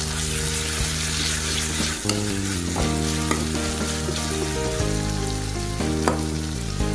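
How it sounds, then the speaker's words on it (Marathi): Ginger, garlic, green chili and coriander paste sautéing in a pan for a chickpea curry, a steady loud sizzle with occasional stirring scrapes throughout, no voices. "आलं, लसूण, मिरची, कोथिंबीरची पेस्ट. थोडीशी परतून घेऊया."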